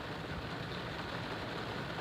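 Heavy rain pours down steadily as a big storm system moves through hunting country, a dense, unbroken broadband roar at constant loudness with no voices.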